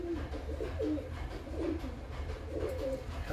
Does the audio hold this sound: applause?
no